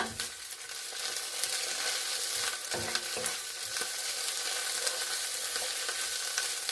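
Dandelion greens fry in bacon grease with a steady, close, broadband sizzle and crackle throughout, broken by a few short stirring scrapes and pops, no voices.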